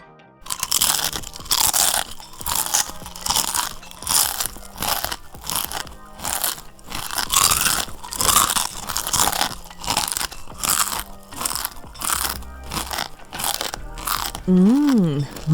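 Close, loud crunching bites and chewing of crispy homemade cassava chips made from cassava and salt, repeated crackling bursts in an irregular rhythm with a short voice sound near the end.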